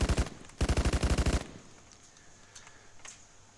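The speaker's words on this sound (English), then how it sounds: "when you've got a lot of people firing on a position, it looks quite impressive with bullet strikes all over the place" Bursts of automatic gunfire from many weapons in the military shooter Arma 3: a short volley, a pause, then a longer rapid burst, loud and close, followed by fainter distant shots.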